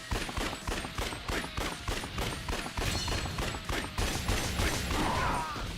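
Gunfire rattles through the zombie shooter Yakuza: Dead Souls, a loud, dense run of rapid shots and mechanical clatter, nearly continuous from start to finish with no talk.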